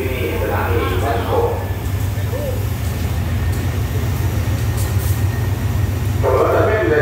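Passenger train 252 stops at Ban Pong station in Thailand with a steady low rumble and hum that holds throughout, while people talk nearby at the start and end.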